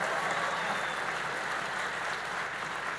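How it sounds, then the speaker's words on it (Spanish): A church audience applauds loudly, producing a continuous, dense wash of clapping that holds steady throughout with no talking. "si quieres aplaudir, dale un aplauso al Señor, pero con fuerza"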